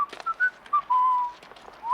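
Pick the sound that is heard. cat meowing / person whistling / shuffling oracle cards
person whistling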